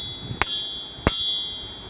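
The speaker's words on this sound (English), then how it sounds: "Here's the sound that a stock crankshaft will emit when you tap it." A stock crankshaft is tapped twice with a metal tool, each strike giving a short, bright ring that fades quickly; the taps are about half a second apart, close and fairly quiet.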